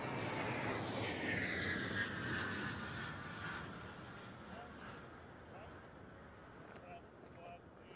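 An aircraft roars overhead during Russia's 2020 Victory Day parade, a broad engine rumble with a whining tone that slowly fades, heard under someone talking.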